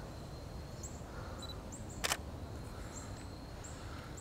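A Samsung A53 phone camera takes a picture of berries outdoors, giving a single brief shutter click midway, with faint bird chirps and steady background noise around it.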